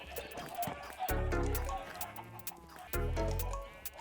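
Chickens cluck in a video game, a stream of clucks and fowl calls that runs through the clip. People talk over them at times.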